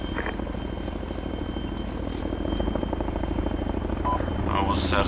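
A military helicopter lifts off in the Arma 3 video game, its rotor chop thudding rhythmically and growing louder and heavier as it climbs, with engine whine and other game sounds around it.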